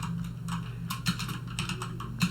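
Rapid typing on a computer keyboard, close and crisp, with irregular clusters of key clicks and a low steady hum underneath.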